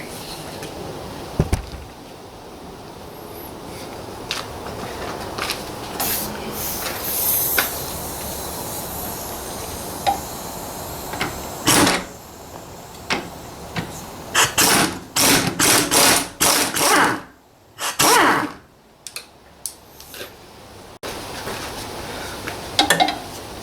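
A nut is worked loose from the rear shock absorber mount on a 2004 BMW 1 Series E87. Close metallic clicks and ratcheting bursts cluster in the second half over a faint, hissy background.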